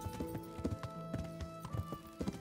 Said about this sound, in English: I should really be riding a horse.